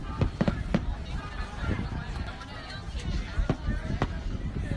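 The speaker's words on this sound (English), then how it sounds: "Those are some good fireworks." Fireworks going off in a series of sharp, irregular bangs and crackles over a busy background, moderately loud and fairly close.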